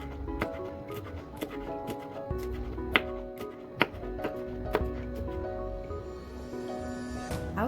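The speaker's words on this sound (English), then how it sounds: "what I'm doing now is removing the seed from the pepper that I used, the red pepper, and also cutting it into different shapes" A knife chops red pepper on a cutting board, with irregular, fairly quiet taps and thuds repeating close by over a low steady background hum.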